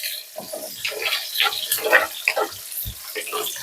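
Chopped onions hit hot oil in a home kitchen pan and sizzle in crackling, hissing bursts at close range, with faint talk now and then.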